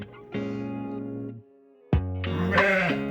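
Ewe bleating while being crutched before lambing, two loud drawn-out bleats close up separated by a short pause, the second rising and harsher.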